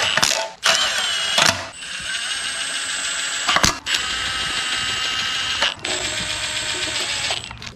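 Ratchet tightening oil pan bolts on a 6.0 LQ9 LS engine being assembled: close, crisp clicking runs in several bursts separated by short pauses.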